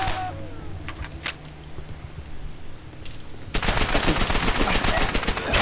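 Call of Duty: World at War video game SMG fire: a few scattered shots, then a sudden loud, sustained rapid-fire stream of submachine gun bursts filling the last couple of seconds.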